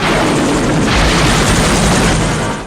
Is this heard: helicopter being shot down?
yes